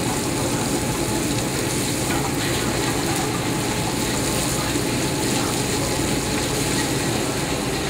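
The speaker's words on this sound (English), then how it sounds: "Okay, we're gonna brown them all up." Pork and beef Swedish meatballs browning in a pan over medium heat, a loud, steady sizzle and spatter of frying fat that runs continuously throughout.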